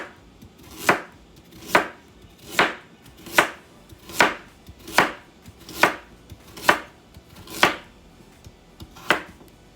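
A knife chops carrots into half-inch pieces on a board, producing nine evenly spaced, crisp thuds about a second apart, close and distinct, with no voices.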